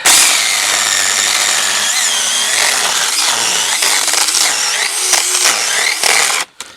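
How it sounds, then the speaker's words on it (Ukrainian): A cordless chainsaw, a Stihl copy, cuts through a thick wooden beam, its loud, close, continuous whine straining and dropping in speed under load before cutting out abruptly at the end. "Чути, що нагрузочка трошки є і падають обороти. Але вона не призначена, щоб різати такі балки"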